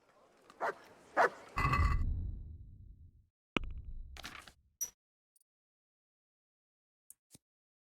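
A dog in the video game Lies of P gives a few short barks and yips, then a whimpering trail, spaced irregularly with quiet gaps and faint clicks near the end.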